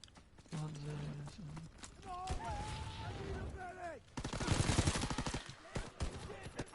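Thompson submachine gun fire in Call of Duty WWII, with rapid bursts of shots alongside other game sounds and a person talking over the action.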